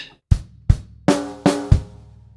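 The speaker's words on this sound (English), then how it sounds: "so the first 2 beats of bar 20 sound like this:" A drum kit plays the first two beats of a swung bar from a Trinity College London Grade 3 piece: five sharp, close hits, low kick thumps with bright cymbal or snare wash on the later strokes, each decaying quickly.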